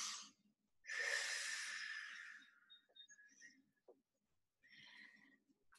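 Forceful breathing during an undulations exercise class: one long, loud, airy exhale followed by several shorter, quieter huffs and breaths, heard close up with no talking.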